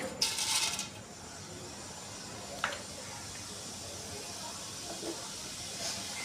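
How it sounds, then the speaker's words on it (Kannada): Cumin seeds hit a hot pan for pav bhaji, giving a sharp sizzling burst at first that settles into a faint, steady hiss. "ಈಗ ಇದಕ್ಕೆ ಜೀರಿಗೆ ಹಾಕೊಳ್ತೀನಿ."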